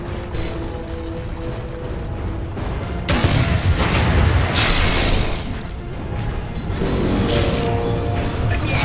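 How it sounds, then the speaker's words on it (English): Dota 2 battle sounds around a tower under attack: continuous crashing impacts and booming hits, a sudden loud surge partway through and another late swell, dense and close with no talk. "Dire's bottom tower is under attack."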